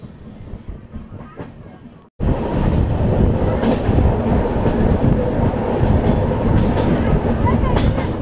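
Train running on tracks between Boddavara and Chimidipalli in the monsoon, a quieter stretch giving way to a sudden loud, steady roar of wheels and carriages with faint clickety-clack throughout.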